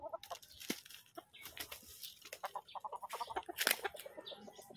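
Chickens cluck and call near by while being fed, with scattered flapping and rustling between the bursts of clucking.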